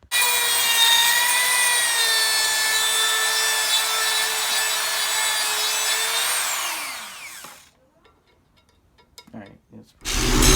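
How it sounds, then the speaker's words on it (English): An angle grinder cuts a keyway into a go-kart live axle, a steady high motor whine running for about seven seconds before winding down into near silence, followed by a few faint knocks and a final burst of noise. "Now I have to grind the axle to get the sprocket to slide on easier."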